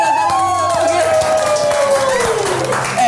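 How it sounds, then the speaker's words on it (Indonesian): Audience applause in a studio setting, a short burst of clapping and crowd noise running under a loud, sliding voice. "kita kasih tepuk tangan dulu"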